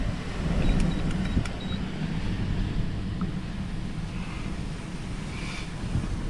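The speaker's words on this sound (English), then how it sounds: "It's a windy day." Wind blowing on a windy day, a loud constant rumble and buffeting roar across the microphone with a few faint high chirps early on, no speech.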